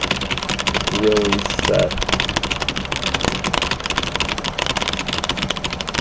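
Rapid burst typing on a computer keyboard produces a dense, continuous clatter of fast keystrokes, close and loud, with brief speech at the start.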